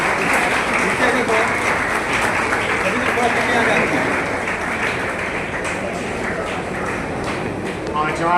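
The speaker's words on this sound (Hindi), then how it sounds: "जोरदार तालियों से स्वागत किया जाए।" Audience applause at a Hindi poetry gathering and commemoration in Lucknow, sustained and loud clapping from a crowd that holds steady throughout, with a voice faintly audible underneath.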